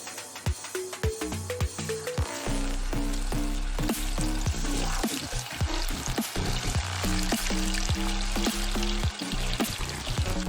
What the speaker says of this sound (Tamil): இப்போ எண்ணெய் சூடாகிடுச்சு. இப்போ சிக்கனை வறுத்துக்கலாம்.